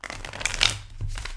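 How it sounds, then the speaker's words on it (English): Tarot cards are riffled and shuffled at close range in a quick, papery burst of flicks that builds briefly, then settles into softer rustling. "I'm going to be shuffling the cards"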